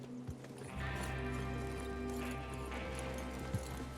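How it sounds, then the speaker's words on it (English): Horses in Red Dead Redemption 2 move out as an outlaw gang rides off to rob a train, with a steady clatter of hooves and an occasional whinny over a continuous game music bed. "Get your horses ready."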